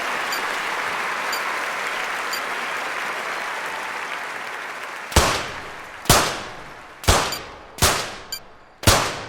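Five sharp pistol shots ring out about a second apart in a 25-meter rapid-fire pistol event at the London 2012 Olympics, each a loud crack with a short decay, following a stretch of steady crowd noise.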